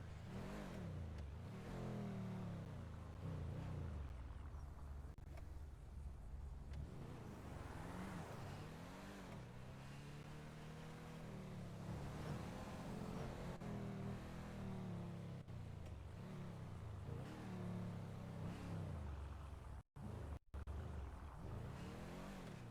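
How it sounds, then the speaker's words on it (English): A tractor engine drones on a city street, rising and falling as it is driven, with steady low rumbling that stays fairly distant and faint throughout. "I'm not gonna question why there's a tractor in the city."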